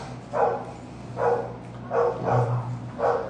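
A small female dog barks in four or five separate bursts about a second apart, close and clear indoors over a low steady hum, with no talking.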